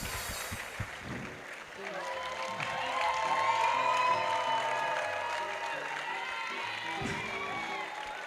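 Applause and cheering from an audience at a Foursquare church youth celebration, a steady wash of claps and excited voices that swells in the middle and stays loud under a sustained tone.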